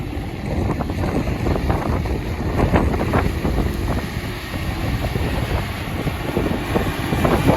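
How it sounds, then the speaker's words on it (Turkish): Strong wind buffets the microphone in an open field during land levelling with a Fendt 313 tractor, a steady, heavy low rumble that surges and dips throughout, with no other clear sounds. "Havada bayağı bir rüzgar var."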